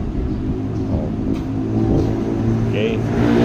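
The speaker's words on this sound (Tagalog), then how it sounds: "Ingay ng motor ng dumaan." A passing motorcycle gives a steady, fairly loud engine drone on a rural road, rising slightly as it goes by, with a person talking faintly underneath.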